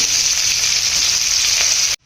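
Thinly sliced onions frying in hot oil with whole garam masala, for a katla kalia, make a loud, close, steady hissing sizzle that stops sharply.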